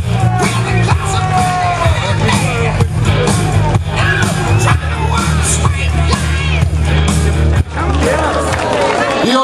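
A crowd at the Big Fish Day 2011 award ceremony reacts to the presentation of a volunteering prize with loud, sustained cheering, yells and whoops over a steady low hum, continuous throughout.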